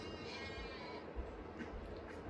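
Sheep on a sheep farm bleat steadily and fairly close, their wavering calls running continuously over a busy outdoor background with no talking.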